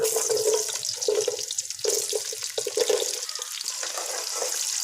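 Potatoes hit cumin seeds in hot oil for a bhindi aloo sabzi, producing a steady, hissing sizzle that rises briefly in patches and carries on evenly.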